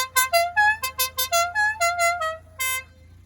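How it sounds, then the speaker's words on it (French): A Renault Super 5 GTS car horn plays a rapid string of short, bright honking toots in a bouncy melodic pattern, loud and close, ending with one longer blast. "les klaxons, faut écouter"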